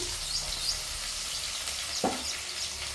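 Onions and beans fry quietly in a pan, a faint, even hiss of oil with one brief knock of a utensil partway through.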